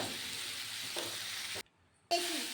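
Boiled atta pasta stirred in a hot pan sizzles steadily, cut off by a half-second gap of near silence before the frying hiss and a scrape of the spoon return.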